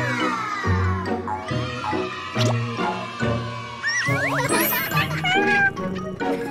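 A cartoon cat meows several times in quick, wavering cries near the end, heard over a bouncy background music track.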